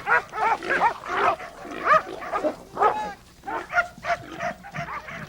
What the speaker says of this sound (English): The dogs finally pinned the hog against a truck, and that's where Dan finally got his shot